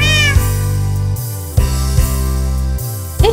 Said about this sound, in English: Sure sounds like there are a lot of cats in here.